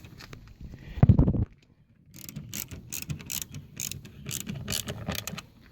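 Screws being driven into a door speaker mount of a 2004 Ford F-150 with a ratcheting tool, a loud thump and rattle first, then a close run of quick clicking ratchet strokes in a steady rhythm.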